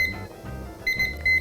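A kitchen timer alarm beeps in a shop kitchen where Hong Kong style bubble waffles are being made, bright electronic beeps in short bursts over a busy background hum, growing more prominent toward the end.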